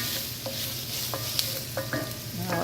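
Vegetables such as onions and garlic sautéing in a pan, stirred and tossed with a spatula: a steady sizzle broken by several short scraping and clacking strokes, close up, with no voices.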